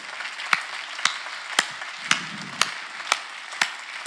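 Sharp hand claps from a church congregation at a Sunday healing service, spaced roughly every half second in a slow, steady rhythm, close and distinct over a quiet background.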